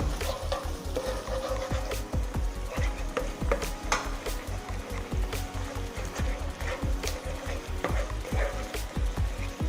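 Thai curry paste fries in a pan for a raw-banana curry with minced pork, with a steady sizzle under quick, regular scraping strokes of a stirring utensil, close and continuous.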